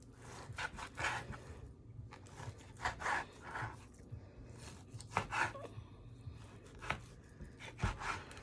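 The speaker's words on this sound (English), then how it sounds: "So just cut them up into bite-sized cubes." A knife slices a raw steak of about one pound into bite-sized cubes on a board, giving repeated soft, close cuts and thuds in an uneven rhythm, with faint breathy noises between strokes and no talking.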